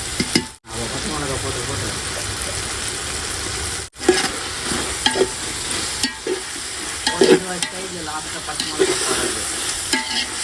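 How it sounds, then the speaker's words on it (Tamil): Tomato, onion, mint and coriander sautéing in a pot for cumin samba biryani, a steady close sizzle with repeated scraping stirs of a spoon against the pan. "தக்காளி வெங்காயம் அந்த புதினா கொத்தமல்லி எல்லாமே நல்லா வதங்கிடுச்சு"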